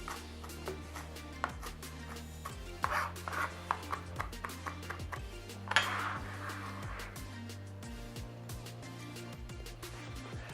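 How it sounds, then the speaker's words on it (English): A knife chopping coriander finely on a board, with irregular light taps and clicks at close range against a droning background hum. "I'll just chop these very finely"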